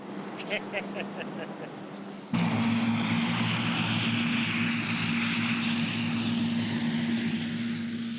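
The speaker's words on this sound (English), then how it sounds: "The minute his plane enters Canadian airspace, K.C. Irving begins to log the time he spend" A propeller plane drones steadily with a low engine hum, loud and continuous, after a brief quieter opening with faint tapping.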